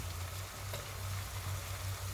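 Vadas fish curry masala with tomatoes stirred and sautéing in a pan, a steady low sizzle with a faint continuous frying hiss and no talk.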